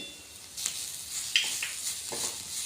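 Hakka noodle vegetables sautéing with masala and salt in a pan, a soft steady sizzle with a few quick stirring scrapes and hiss bursts, faint and close.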